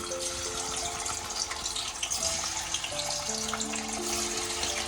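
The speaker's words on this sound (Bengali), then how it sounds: "পনিরগুলোকে আমি আগে ভেজে তুলে নেবো হালকা করে।" Salted paneer pieces fry lightly in hot oil in a kadai, giving a continuous, even sizzling hiss with faint tonal music underneath.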